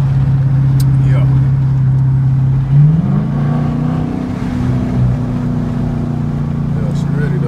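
A Dodge Challenger R/T engine drones loud and close, its pitch shifting upward partway through as it revs during a downshift.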